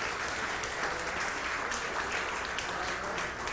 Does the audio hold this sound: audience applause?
yes